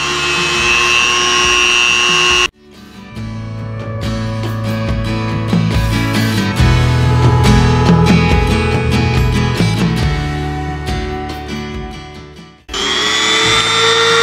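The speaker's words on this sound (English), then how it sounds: "I happen to have a Dremel, so I'm gonna use it. I'll take and cut that back." A high-pitched Dremel rotary tool whines as it cuts back a stock tank valve, running steadily for about ten seconds with shifting pitch as it bites into material, then stops.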